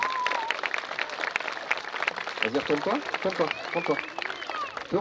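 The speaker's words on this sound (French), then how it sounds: "vous pouvez peut-être applaudir, ça a bien marché cette fois" Outdoor crowd applause after a falconry bird lands at an alpine pasture festival, a continuous patter of clapping with someone speaking over it nearby.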